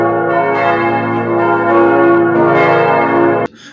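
A church bell rings loudly and steadily with rich sustained overtones, the tolling continuing for about three and a half seconds before cutting off abruptly.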